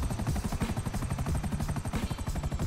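In the video game GTA V, a helicopter's rotor chops rapidly and loudly with a fast, steady thudding pulse and a whining turbine underneath, and no voices.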